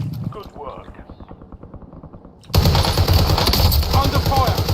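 Heavy automatic gunfire bursts in the video game Warzone, starting at a moderate level with rapid rhythmic shots, then jumping sharply louder and denser partway through into a sustained, close, chaotic barrage.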